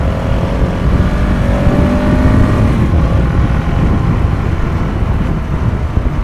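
A 2015 KTM 690 Enduro R single-cylinder motorcycle engine drones loudly while riding, a steady throbbing note with a slowly rising pitch as it pulls, mixed with wind rush, without speech.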